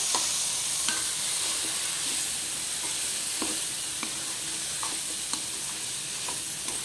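Carrot and coconut fry being stirred in a pan, a steady close sizzle with scattered spoon scrapes and taps throughout, no voices.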